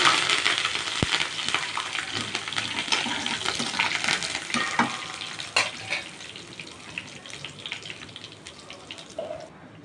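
Dried red chillies and curry leaves sizzle and crackle steadily in hot oil in a pan, with occasional clinks of a utensil against metal.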